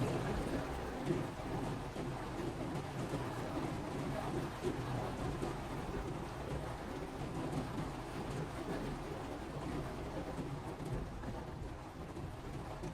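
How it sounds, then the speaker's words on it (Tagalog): Heavy, steady rain pours down, with low rumbling thunder rolling underneath throughout; no voices. "Grabe, lakas ng ulan."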